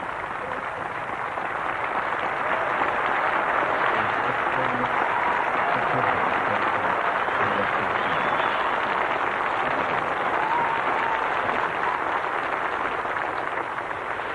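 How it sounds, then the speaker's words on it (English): A vast outdoor crowd in Hyde Park breaks into sustained applause during Princess Diana's 1997 funeral, a distant, even wash of clapping that holds steady throughout. "The applause taken up inside by the congregation."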